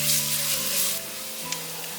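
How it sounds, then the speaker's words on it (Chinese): Minced ginger sizzling in hot oil in a wok for a vegan potato and cucumber stir-fry, a loud bright hiss that eases off midway, with a faint tap near the end. "现在放入姜末，先把姜末爆香"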